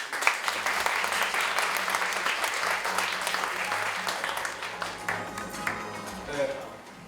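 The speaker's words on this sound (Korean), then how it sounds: "큰 박수 부탁드립니다" Crowd applause fills a developer meetup hall, steady dense clapping running nearly the whole stretch and thinning slightly toward the end, with faint voices underneath.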